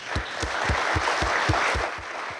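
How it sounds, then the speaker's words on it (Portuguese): Sparse, rhythmic clapping from a small audience at a leadership talk, roughly nine distinct claps at a steady beat, close and moderately loud. "uma salva de palmas para vocês."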